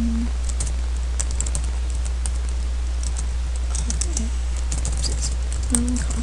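Quick, light keystrokes on a computer keyboard click in short bursts over a steady low electrical hum, with faint bird chirps in the background.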